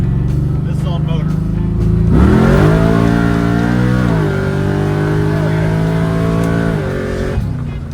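Nitrous-equipped car driven on motor, a loud engine close by that revs up sharply and then holds a strong, rising drone under acceleration, with a voice speaking over it.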